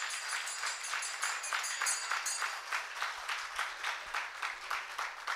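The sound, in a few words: audience clapping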